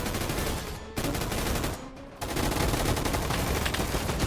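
Sustained rapid fire from a mounted turret in a shooter video game roars in a dense, continuous stream, breaking off briefly twice before resuming at full loudness.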